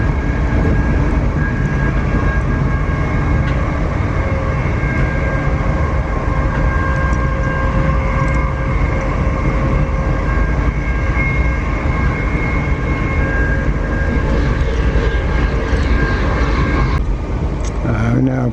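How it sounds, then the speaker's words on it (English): A train passes alongside on the rails near Euston in north London, overtaking with a steady, loud rumble and wheel noise that lasts throughout, while a voice speaks over it. "the train that we overtook a little while ago is now overtaking us"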